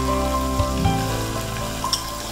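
Ginger garlic paste and onion frying in hot oil for misal pav, a steady close sizzle with a couple of soft stirring knocks, no talking.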